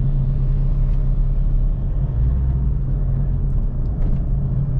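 A car engine, in neutral, produces a close, heavy and even rumble with a steady low hum and no clear rise or fall in pitch across the few seconds.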